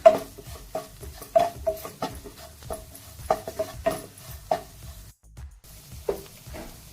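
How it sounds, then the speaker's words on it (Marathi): Red chilli powder and onion-garlic masala being stirred in a pan for a drumstick curry, with repeated scraping strokes and a light sizzle that recur in an irregular rhythm, close and moderately loud. "पुन्हा हे मसाला चांगला परतून घेऊया"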